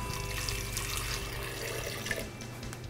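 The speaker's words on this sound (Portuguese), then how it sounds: "Aqui eu vou colocar água morna," Warm water pours into a blender jar while bread dough is being made, a steady close splashing and trickling flow that runs continuously without any talk.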